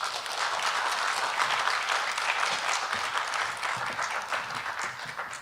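An audience at an education forum on AI applauds the two keynote professors, a steady, even wash of clapping from many hands that fades slightly toward the end.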